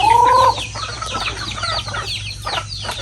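Several chickens cluck and squawk in short bursts on a rural Mindoro farm, one louder call at the start, with a steady low hum beneath.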